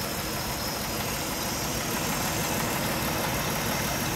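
A 1947 Dodge D24 seven-passenger sedan engine idles smoothly and steadily, a close, continuous low rumble with a faint mechanical hum and no voices over it.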